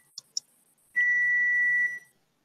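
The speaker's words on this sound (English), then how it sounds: "Where is that beeping coming from?" A small electronic device in a meeting room gives two quick high chirps, then a steady single beep held for about a second before it cuts off in quiet surroundings.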